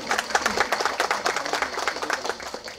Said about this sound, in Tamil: ஆக்சுவலாக நான் கைத்தட்டலாம்